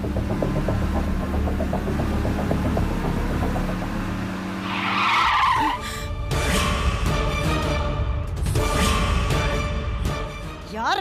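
A car pulls in fast and brakes hard, its tires skidding and squealing loudly in two sharp bursts before it stops, with engine rumble underneath.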